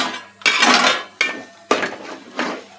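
A spoon stirring gongura leaves and meal maker pulao in a pan, giving four separate bursts of scraping and clinking against the metal, each one loud and close with short pauses between them.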